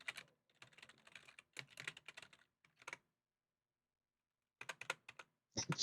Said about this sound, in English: let me know in the comments if the keyboard shows up when I type